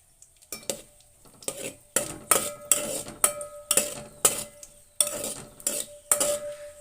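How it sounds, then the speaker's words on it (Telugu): Spoon stirring cashews and raisins frying in ghee in a pan for wheat rava kesari; a steady series of metallic scrapes and clinks against the pan over a faint sizzle, close and with no talk. "ఇప్పుడు కిస్మిస్ వేస్తున్నాను."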